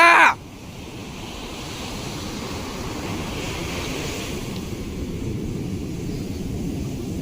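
Continuous low roar of sea waves washing in at Gokarna, steady and enveloping with wind noise, after a brief burst of sound at the very start.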